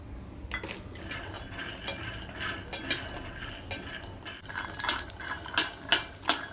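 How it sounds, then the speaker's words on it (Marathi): Peanuts dry-roasting in a pan for tilgul ladoo are stirred with a metal utensil: a soft scraping rattle, then sharper, evenly spaced clinks and knocks that grow louder toward the end. "आता शेंगदाणे चांगले भाजून घेऊया"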